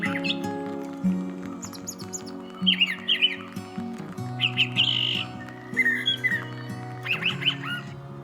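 Wild birds call in spring in southern Ontario, a mix of chirps, squawks and duck-like calls repeating close by over a steady low hum.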